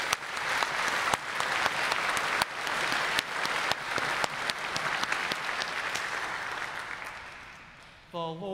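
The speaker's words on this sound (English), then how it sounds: "maybe that deserves an applause for our Ukrainian brothers and sisters." A church congregation applauds during an Easter Vigil service, a dense, sustained wash of clapping that fades toward the end before a sung or spoken voice enters briefly.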